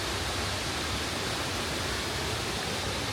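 A waterfall in South Wales gives a steady, dense rush of falling water, even and unbroken throughout at moderate level with no voices.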